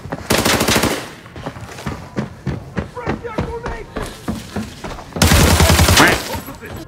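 Shooting video game gunfire: bursts of rapid automatic fire open and close the stretch, with scattered single shots and thumps in between, while players talk over the action.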